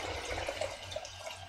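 Filtered water is poured into a gallon pitcher, a soft gurgling, bubbling pour with small splashy bursts, close and quiet throughout.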